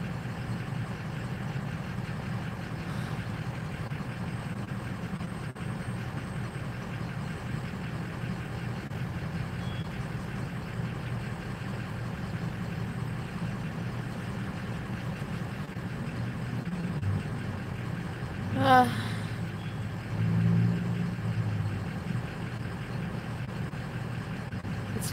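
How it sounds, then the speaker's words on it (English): Diesel truck engine idling nearby, a steady low rumble that holds through the whole stretch, with a brief brighter burst partway in and no voices. "Diesel trucks are very loud, I know."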